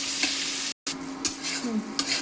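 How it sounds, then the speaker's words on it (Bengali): Chopped onion and tomato sizzle in a hot pan while being stirred, a dense close frying hiss with quick scraping strokes and a brief break in the sound. "এবার এটা একটু ভাজা ভাজা করি"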